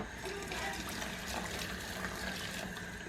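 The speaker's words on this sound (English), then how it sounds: "we're going to add another 400 millilitres of boiling water to this as well" Boiling water poured from a kettle into a pot of stock while cooking a budget family meal, a steady close splashing and gurgling pour that runs unbroken the whole time, with no talking.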